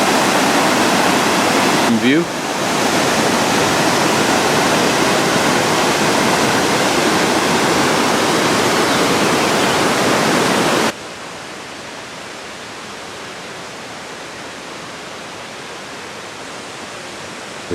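Savica Falls near Bled in Slovenia, a river pouring down in two places, makes a loud, broad, unbroken roar close by that drops sharply in level partway through, with a brief spoken word near the end.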